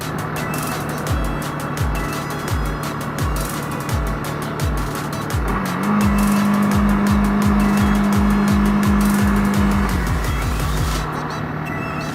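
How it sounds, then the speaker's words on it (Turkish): A Bajaj Pulsar 150 AS motorcycle held at full throttle, a steady loud engine drone with a rapid rhythmic pulsing beneath it and a rising whine partway through, under strong wind noise. "şu an son gaz bastım ama yok gitmiyor"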